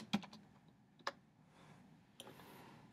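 An equation keyed into a graphing calculator, a few sharp, quiet button clicks spaced apart over a faint background hiss, with a soft shuffle near the end.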